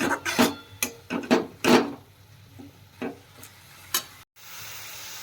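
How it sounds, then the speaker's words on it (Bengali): Carrots for gajar ka halwa fry in a pan, a broad sizzle under repeated scraping stirs at an uneven rhythm, close and fairly loud, ending in a brief silence before a steady hiss resumes. "চার পাঁচ মিনিট ধরে গাজরটাকে ভালো করে ভাজতে হবে"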